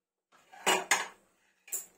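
Soaked chickpeas submerged in water and a pressure cooker pot are handled while making chole, giving a couple of close metallic clanks followed by a shorter clatter in an otherwise quiet kitchen.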